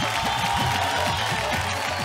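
Audience at a Bhojpuri music stage show applauding to welcome performers, a dense continuous wash of clapping with rhythmic low thumps beneath, steady and fairly loud for the whole stretch.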